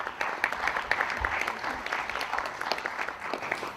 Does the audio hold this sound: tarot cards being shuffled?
no